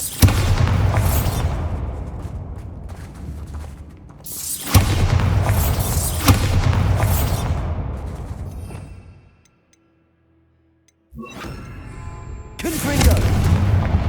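Repeated Bombarda spell blasts from Hogwarts Legacy erupt as three heavy booming explosions with crackling, shattering debris tails. A short near-silent gap comes before the last blast.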